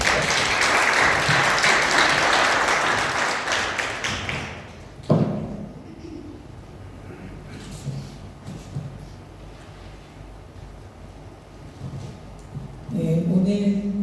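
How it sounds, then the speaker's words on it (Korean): A church congregation claps in sustained, dense applause to welcome a preacher at a Sunday service, loud and steady for about five seconds before stopping abruptly, followed by a quiet room with faint shuffles and a few thumps. "우리 축복의 박수로 맞이합니다"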